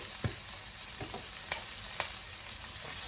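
Curry leaves sizzling in hot oil in a pan, a bright steady frying hiss with a few crisp pops and crackles scattered through, close and continuous.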